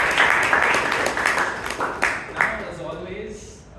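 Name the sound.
round of applause at Toastmasters meeting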